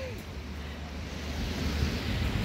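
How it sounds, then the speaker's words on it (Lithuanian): Gentle, calm sea waves wash in softly on a windless day beneath a low, steady rumble, quiet and continuous with a slight swell toward the end. "Tokia jūra rami labai, šiandien vėjo nėra"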